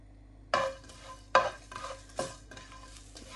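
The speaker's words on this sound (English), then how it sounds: "add them and just heat them through" Whole green cardamom pods, peppercorns and cloves tossed into a hot pan, giving a few sharp scraping, rattling bursts with a soft sizzle between them, close and alone with no talk.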